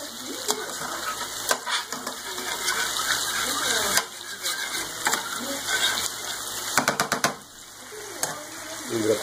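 Chicken cooking in a pot is stirred: steady hissing sizzle and bubbling run throughout, broken by sharp clatters of a utensil against the pot, loud and close.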